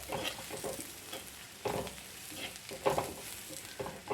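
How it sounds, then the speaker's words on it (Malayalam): Spice powders with turmeric sauté over a medium flame for a Kerala onion curry, a soft, fairly faint sizzle broken by a few louder stirring scrapes, heard alone. "നമുക്ക് പൊടികളെല്ലാം നന്നായിട്ടൊന്ന് വഴറ്റിയെടുക്കാം"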